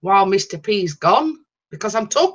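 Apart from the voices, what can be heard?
No everyday noises stand out.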